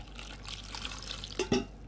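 A quarter cup of water is poured onto vegetables with olive oil in a pot while making chicken with vegetables, a brief close splash and trickle that peaks sharply near the end.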